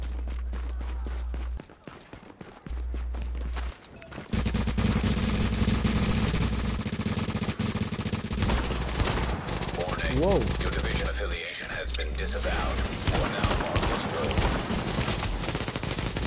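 Gunfire in the Dark Zone of The Division video game, with sustained automatic bursts and overlapping shots filling most of the stretch, loud and close, broken by short pauses.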